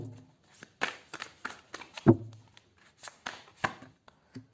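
Tarot cards shuffled and drawn, heard as scattered soft flicks and slides, one sharper snap in the middle and a few quiet taps, close by and sparse.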